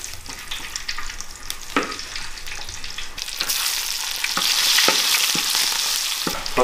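Ingredients stir-fried in a wok with hotpot seasoning base, a loud continuous sizzle punctuated by sharp spatula scrapes, swelling into a stronger hiss partway through as the cooking intensifies, no talking.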